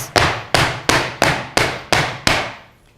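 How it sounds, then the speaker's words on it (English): Seven sharp, evenly spaced bangs as a soap mold filled with cookies-and-cream soap batter is knocked against a hard surface to release air bubbles, each impact ringing briefly before the next, loud and close with no talking. "Banging it is great because it gets out all those air bubbles."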